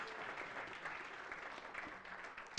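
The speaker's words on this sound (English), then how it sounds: "so give him a round of applause" An audience at a financial and market update presentation claps in a brief, even burst of applause that carries steadily from start to finish.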